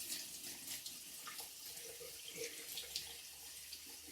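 Tap water runs steadily into a sieve as food is rinsed, a continuous soft hiss and splash with faint clinks and shifting spatter, fairly quiet and heard without speech.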